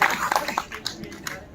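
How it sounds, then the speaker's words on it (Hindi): An audience at a stand-up comedy show gives a short burst of scattered clapping, fairly close, mixed with voices. "यार बीच में ताली बजा दो।"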